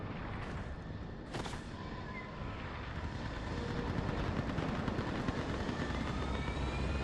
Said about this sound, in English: Get that gunship moving!